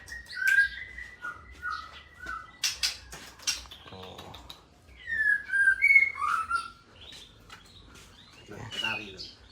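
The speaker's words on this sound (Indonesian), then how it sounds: "Nah, ini burung celilin." A celilin songbird, kept as a caged bird, sings in clear whistled phrases and short chirps, close and fairly loud, with pauses between bursts while people talk nearby.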